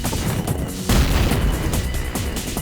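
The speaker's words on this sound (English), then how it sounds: "Let's splatter them with the rocket launcher" Rocket launcher explosions in the Duke Nukem 3D video game, a dense rumbling blast that swells sharply partway through and holds as a loud, continuous booming wash with no voices.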